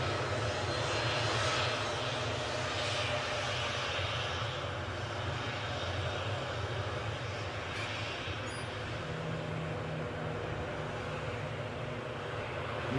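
A Diamond DA62 light twin-engine aircraft taxis on the runway at Newcastle airport, its engine drone steady and fairly distant, with a smooth broadband rumble that stays even throughout and no voices.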